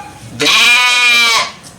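Single loud, close bleat from a Bandur sheep, a drawn-out wavering cry lasting about a second, rising out of quiet farm surroundings.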